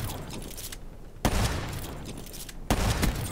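Gunshots in Call of Duty: Black Ops 3 come as two sharp, loud cracks about a second and a half apart. A dense clatter of noisy game action runs underneath them.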